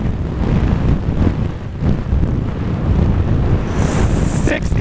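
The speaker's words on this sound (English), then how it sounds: "The winds are still howling off the Atlantic, east-northeast" Strong east-northeast wind howling off the Atlantic in gusts, a loud, rushing roar buffeting the microphone continuously.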